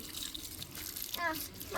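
Water splashing and trickling during washing, a short, faint burst of pouring with a brief voice near the end.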